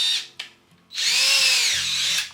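A small belt sander with a coarse belt runs on a piece of 3/8 maple: two short bursts, then a longer whining run that rises and falls in pitch as it bears on the wood.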